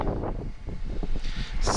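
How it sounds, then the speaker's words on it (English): Strong gusting wind roars over the microphone outdoors during a run with a single-motor RC car, a steady low rumble with no talking. "So windy, man."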